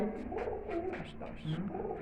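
Pigeons coo in soft, low rolling phrases, close by, with a voice murmuring faintly underneath.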